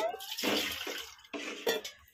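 Running water splashes and gushes in bursts while something is rinsed by hand in a home kitchen during cooking, close and fairly loud, with brief pauses between the washing strokes.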